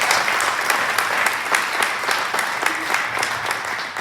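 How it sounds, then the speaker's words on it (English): A theater audience in Alpine, Texas, applauds its veterans with steady, dense clapping from many hands, close and sustained for the full stretch. "Give these guys a round of applause"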